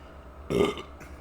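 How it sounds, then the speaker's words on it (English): One short, close-up burp from a man rumbles out midway, trailing off into a faint second gulp of air against quiet background. "Hold on, I got a burp."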